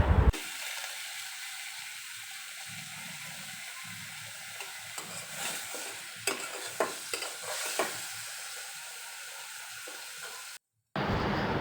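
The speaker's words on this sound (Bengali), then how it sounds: "তেজপাতা দিয়ে মুরগিগুলোকে ভালো করে একটু ভেজে নিব লাল লাল করে।" Broiler chicken pieces frying with bay leaves in a pan, giving a steady close sizzle with occasional stirring scrapes and clatters, no voices.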